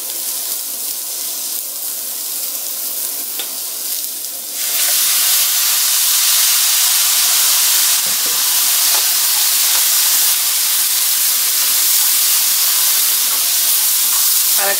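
Shrimp noodles stir-fry with garlic and ginger as drops of soy sauce hit the hot pan, a loud, steady hiss and sizzle that grows stronger partway through and then continues unbroken.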